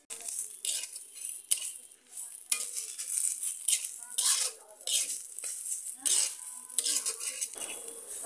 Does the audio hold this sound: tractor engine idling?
no